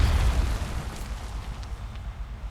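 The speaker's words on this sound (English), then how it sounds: "I didn't exactly step on that mine, yet it still went off." A deep, rumbling land mine explosion in World of Warcraft booms at the start and then decays into a low, rolling rumble that fades over a couple of seconds.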